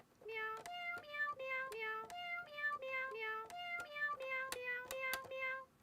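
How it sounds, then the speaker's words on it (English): A synthetic cat meow from a toy cat piano repeats about a dozen times in a steady rhythm, each bright tonal mew stepping slightly in pitch, clear and close. "let me give you the cat sound"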